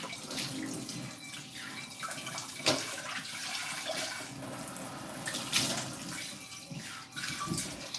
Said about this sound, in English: Last pan, yes, this is the last one. The last one is becoming difficult to wash.